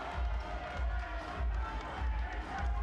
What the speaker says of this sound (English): Much to the applause of the travelling Flyers faithful